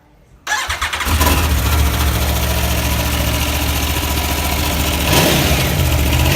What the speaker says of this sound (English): let me give it a quick start up for you, so you can hear this V4 engine.